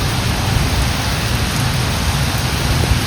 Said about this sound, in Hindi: ओह बहुत बारिश हो रही है